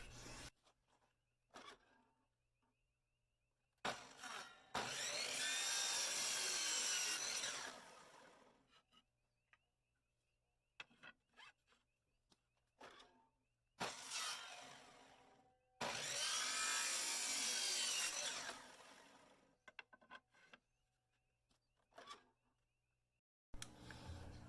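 Small pieces of wood for an aquarium frame are cut with a hand saw in two long bursts of rasping strokes, each lasting several seconds, separated by quiet pauses and light handling knocks.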